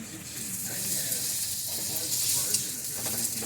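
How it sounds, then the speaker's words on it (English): Italian sausages brown in olive oil in a non-stick pan with a steady, close sizzle and hiss while a person talks over it. "a little bit of olive oil, and get them good and brown on the outside"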